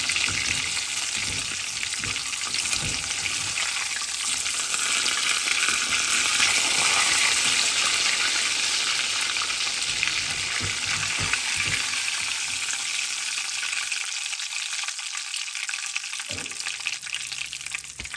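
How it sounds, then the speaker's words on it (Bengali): Fish frying in hot oil, street-food style as in Old Delhi dhabas, gives a steady loud crackling sizzle with scattered pops and stirring clinks. It drops out briefly near the end, then resumes. "ভালোভাবে ভাজা হয়ে গেছে।"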